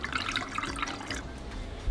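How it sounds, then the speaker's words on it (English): Homemade Polish toffee vodka pours into spare vodka bottles, a brief continuous gurgling, splashing liquid stream, close and fairly loud, with no talk. "We're about to pour them into spare scald vodka bottles that we've found."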